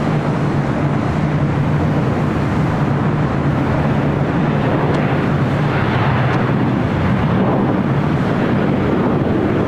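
A Southwest Airlines airliner in the New Mexico One special livery taxis toward runway 25 right at LAX, its steady jet roar blended with heavy wind buffeting the microphone throughout.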